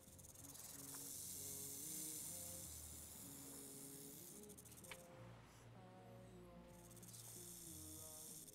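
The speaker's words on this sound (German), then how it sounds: "Ich höre die Schlange, aber ich sehe sie nicht." A snake in the survival video game Stranded Deep gives off a steady, raspy hiss that runs through the whole stretch beneath layered game music, with no clear near or far movement.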